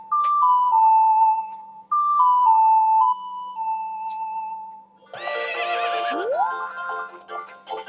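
A simple ocarina-style tone melody plays, then a loud horse whinny from Zelda: Ocarina of Time bursts in, bright and shrill, with the tune fading beneath it.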